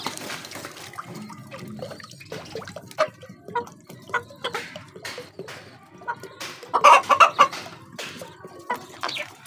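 Large and young chickens clucking while drinking water poured into two glasses, with irregular soft clucks and light water dripping and splashing nearby, getting busier toward the end.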